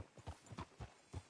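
Horse hooves clip-clopping at a walking pace in Red Dead Redemption 2, a soft, fairly quiet rhythmic series of hoof falls with no voices.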